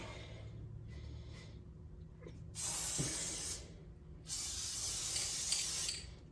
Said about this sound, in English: I'm going to go ahead and spray this guy